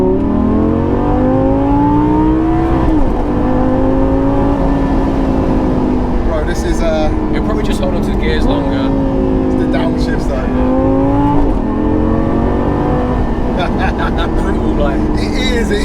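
A 2000s performance car engine revs hard while driving, climbing toward about 6,500 RPM in repeated rising pulls with short drops at gear changes, loud and close, with brief voices underneath.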